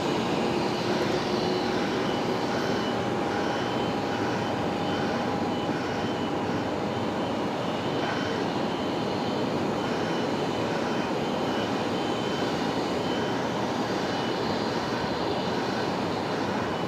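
At night a plane comes in to land on runway 19 right at Brisbane Airport, its engine a loud, steady roar with a continuous broadband rush that stays even throughout, with no talk.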